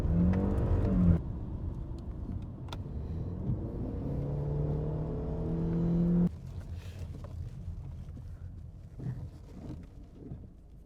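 Inside a 2-litre petrol BMW E90 on the move, a steady engine hum and road rumble rise gently as the car accelerates, then settle into a quieter cruising drone.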